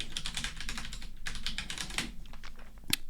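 Quick bursts of typing on a computer keyboard, close clattering keystrokes in a short rapid run with a sharper click near the end.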